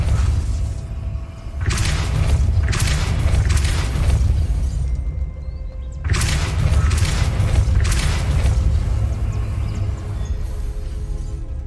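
The Depulso force spell in Hogwarts Legacy lets out heavy booming bursts with crackling, shattering debris, swelling in two long surges separated by a brief lull.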